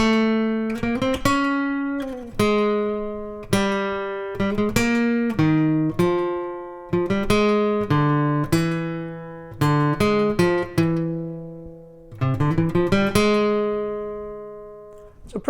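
An acoustic guitar plays the melodic solo from The Beatles' "Michelle", a short run of single plucked notes and ringing phrases with pauses between, close and alone.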